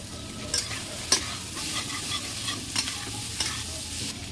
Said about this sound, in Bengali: এবারে আলুগুলো দিয়ে দেবো আমি ভেজে নিয়ে নিই আলুগুলো